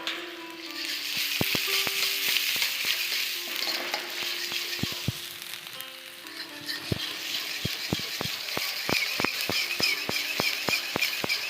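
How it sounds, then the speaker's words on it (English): Finely chopped garlic and ginger frying in a pan for a stir-fried vegetable dish in schezwan sauce, a steady close sizzle broken by repeated sharp clicks and taps of a utensil, no talking. "Add finely chopped garlic, ginger, and cook till light golden color."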